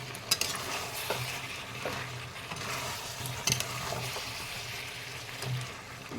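Fried potatoes being stirred into chicken curry in a pan, giving a steady sizzle with soft scraping strokes of a spoon against the metal and occasional light clinks, with no talking.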